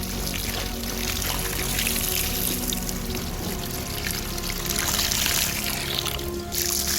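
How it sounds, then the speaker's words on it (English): Water poured over a landed carp held in a cradle beside a dam, a steady close splashing trickle that runs continuously with outdoor background. "Just gonna put some water over the top."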